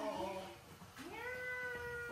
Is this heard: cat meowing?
yes